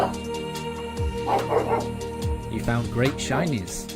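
Daruk, a dog, lets out several short yipping barks and whimpers close to the microphone, while a person talks over them.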